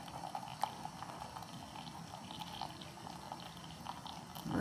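Cherry juice flowing from the spigot of a steam juicer into a container, a quiet, steady liquid trickle with faint drips, close by and alone.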